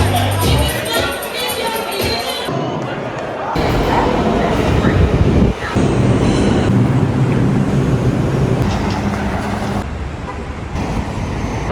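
A New York subway train into Bleecker Street station rumbles loudly through a busy city morning, with station noise shifting abruptly between sections and voices talking underneath.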